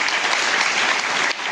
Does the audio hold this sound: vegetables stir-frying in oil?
no